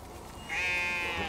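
Young ewes on a meat sheep farm, with a single close, clear bleat rising out of quiet background noise and lasting under a second.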